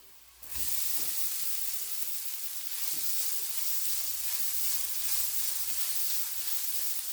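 Grated coconut fries with spices in a pan on minimum heat for a beans carrot thoran, a loud continuous hiss and sizzle starting abruptly and holding steady, with a few stirring scrapes and no voices.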